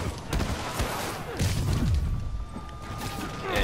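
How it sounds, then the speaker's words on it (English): Rocket launcher blasts boom in the Marvel's Spider-Man video game, with repeated thuds and crashing impacts layered over busy game noise for a few seconds. "Can't get hit by rocket launchers. I'm allergic to blowing up."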